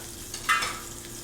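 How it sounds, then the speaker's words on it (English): Meat sears in a hot pan during a live cooking show, a soft steady sizzle with one sharp hiss as a piece is turned over. "Just turn that over, get a nice sear on the other side"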